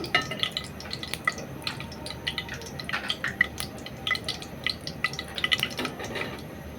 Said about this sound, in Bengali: গরম মশলাটাকে একটু তেলে ভাজবো